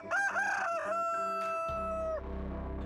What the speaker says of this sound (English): City people intent on raising chickens are accidentally ending up with roosters.